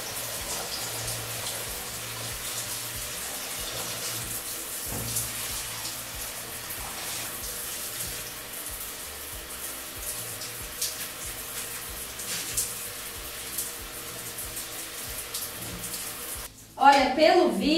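Tap water runs steadily during a Shih Tzu's lukewarm bath, a soft continuous splashing hiss under occasional quiet talk, ending in a short burst of louder handling noise.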